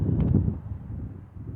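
Wind buffets the microphone outdoors in Colorado in a steady low rumble, with faint rustling and no speech.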